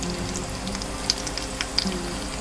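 Cumin seeds and dried red chili sizzle in hot clarified butter, a steady soft frying hiss with small crackles and pops, with no voice over it.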